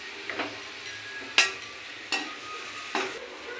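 Mushrooms poured into a pan of browned onions and fried, a low steady sizzle with three sharp spatula knocks against the pan at roughly even intervals, close by and without speech.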